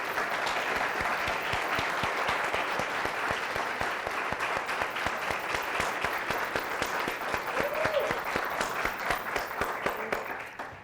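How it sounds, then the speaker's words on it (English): A conference audience applauds steadily and loudly for the event's coordinators at a keynote, dense continuous clapping filling the whole stretch with a brief murmur of voices partway through. "will you join me in giving them a round of applause?"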